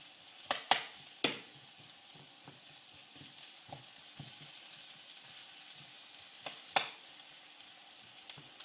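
Diced Granny Smith apples sweating in a pan for a salmon verrine, giving a steady soft sizzle with a few sharp clicks of a utensil against the pan, close and with no speech.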